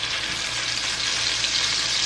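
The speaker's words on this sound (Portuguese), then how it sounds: "Já selou de um lado, vou virar do outro." Beef flank steak sears in a hot pan with a steady, loud, crackling sizzle that holds even throughout, with no voices.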